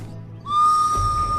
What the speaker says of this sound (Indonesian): prajurit langsung meniupkan peluit.